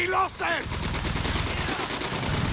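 Gunfire rattles in a Company of Heroes 3 battle video game, rapid machine-gun-like bursts in a dense continuous stream following two brief whooshing game effects at the start.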